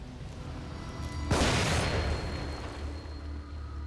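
A single mine blowing up in the survival horror game The Evil Within, one sudden loud blast that rumbles and fades over a couple of seconds against quiet ambient background.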